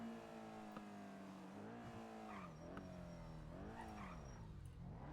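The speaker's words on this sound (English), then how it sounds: "I'm driving to shoot Mosh" A car engine in the GTA V NoPixel game hums and revs through shifting gears, with rising and falling pitch as the vehicle accelerates, steady and moderately close with no speech over it.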